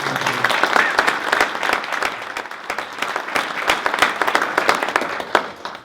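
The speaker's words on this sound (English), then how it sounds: "So if you give a round of applause for all the sponsors." Sustained audience applause at an environmental conference's opening remarks, dense steady clapping from a crowd filling the room for about six seconds without a break.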